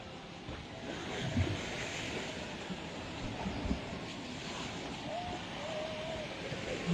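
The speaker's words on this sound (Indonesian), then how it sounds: "Ini ombak juga Tribuners," Strong ocean surf rolling and crashing in a constant roar against a damaged coastal road and breakwater after heavy rain, mixed with wind buffeting the microphone; a faint voice can be heard briefly.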